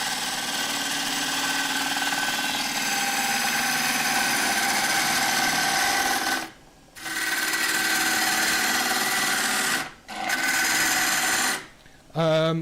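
Wood lathe turning an oak burr bowl with a dull bowl gouge, a steady loud scraping and hissing cut running almost continuously, broken by three brief pauses.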